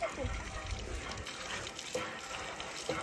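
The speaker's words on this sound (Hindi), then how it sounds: "रुको हम मुंह धो लेते हैं पहले।" Water gushes from a village hand pump as someone washes their face, a steady splashing flow close by with brief clanks, mixed with voices and background chatter.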